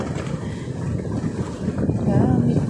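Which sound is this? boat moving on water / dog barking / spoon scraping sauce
boat moving on water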